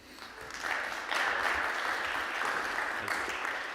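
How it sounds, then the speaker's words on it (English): Conference audience at a blockchain event applauding a speaker as he takes the stage: clapping swells quickly, then holds as a dense, steady round before easing slightly near the end. "please give a round of applause to Andreas Tsemaros from Fivers."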